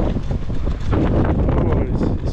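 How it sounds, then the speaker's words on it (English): Strong morning wind in a town centre buffets the microphone with loud, continuous low rumbling and gusty roaring, with a voice speaking faintly under the wind noise. "It's really windy"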